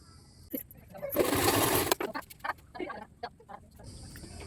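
A treadle sewing machine stitching a blouse, a brief dense mechanical whirr followed by irregular clattering knocks and taps, with faint bird clucking in the background.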